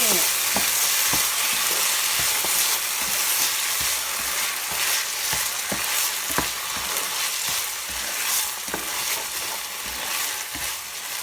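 Spaghetti sauce made with ketchup is stir-fried in a pan, giving a steady loud sizzle broken by repeated scraping strokes of the spatula throughout, with no talking.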